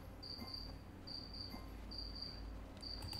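A cricket chirps in repeated short trills, four evenly spaced bursts of high, rapid pulsing over a faint background hum, fairly close but quiet, with no talking.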